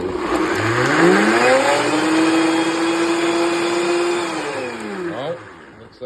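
A kitchen blender chopping tomatoes, its motor whirring loud and steady and rising in pitch as it spins up, then slowing and winding down near the end.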